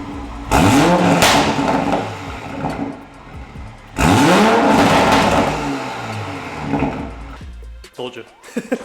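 A Toyota Supra with a Valvetronic Designs exhaust and catless downpipe revs hard twice, each loud, close rev climbing then falling away, followed by quieter idle and a few clicks.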